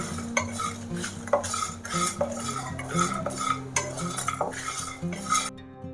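Slow frying for a spicy stuffed brinjal curry, with a spoon scraping and clinking against the pan in irregular strokes over a soft sizzle, close and without speech.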